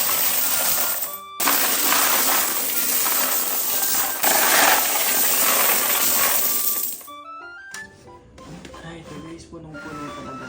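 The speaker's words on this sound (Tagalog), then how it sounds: "Sobrang daming barya na naman nito" Masses of coins emptied from piso net coin boxes clatter and jingle continuously and loudly up close, then thin out to lighter scattered clinks near the end.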